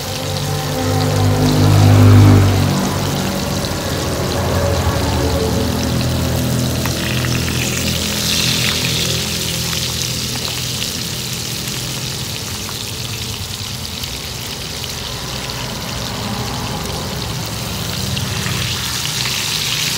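Fish frying in a generous amount of hot oil in a pan, a steady close sizzle and crackle with a louder bubbling burst near the start, then an even hiss that holds throughout.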